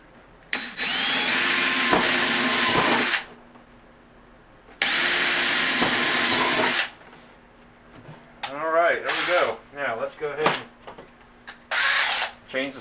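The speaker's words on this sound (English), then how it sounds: "let's go ahead and drill our holes." A power drill whirs in two long bursts while drilling holes in plastic, stopping between them, followed by talking mixed with shorter drill runs.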